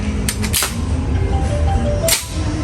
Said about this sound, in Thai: เราจะมารีวิว ยิงให้ดูเลย ตัวนี้ MC 6 6 2 4 M นะครับปืนอัดแก๊สโบแบ็